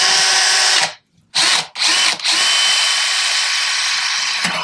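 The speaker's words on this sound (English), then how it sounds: "we're going to take a drill, and we're going to go through our drums" A loud, close power drill whining steadily, cutting out twice briefly before grinding on continuously as it bores through a hard fiberglass drum.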